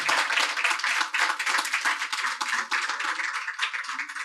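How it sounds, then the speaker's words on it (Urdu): An audience at an Urdu poetry recital claps loudly and steadily for several seconds, a dense, even patter of many hands close by with no voices over it. "ایک بار زوردار تالیاں بجا دیجیے"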